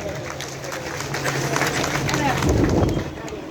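Crowd at a large community gathering applauding to welcome guests, a continuous wash of clapping that swells slightly toward the end, with voices audible beneath.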